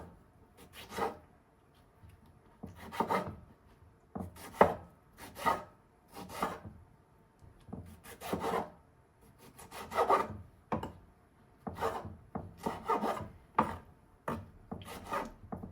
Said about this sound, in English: I'm just gonna hand chop everything.